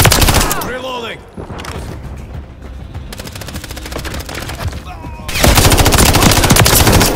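Rapid automatic gunfire in Modern Warfare III, bursts of loud close shots with a brief lull and a ringing tail before another heavy burst erupts near the end.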